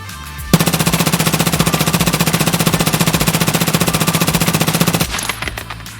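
Sustained rapid automatic gunfire from the video game Escape from Tarkov, a steady loud burst of evenly spaced shots lasting about four and a half seconds, then quieter game ambience.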